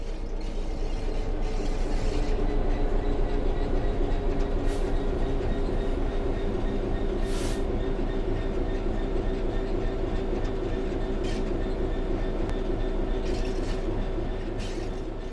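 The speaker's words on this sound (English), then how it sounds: "The train will then coast on level ground, and the train will only slow down very gradually." Train coasting on level ground in Train Sim World 3 on Xbox Series X, a loud continuous rolling rumble with steady mechanical drone and occasional brief wheel squeals and clicks.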